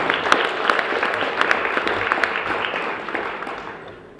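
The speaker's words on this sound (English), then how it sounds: "Another round of applause, if you would, please." Audience applause at a Black Economic Union 50th anniversary celebration: a dense, sustained wash of clapping from a large crowd, steady and fairly loud throughout, tapering off slightly toward the end with no talking over it.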